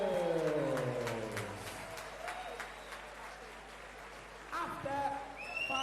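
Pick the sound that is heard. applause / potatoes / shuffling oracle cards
applause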